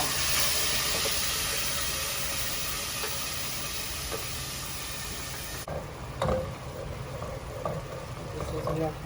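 Lemongrass and red chilies frying in hot oil for vegetarian laksa give off a loud, steady sizzling hiss, with occasional soft pops and clinks near the end.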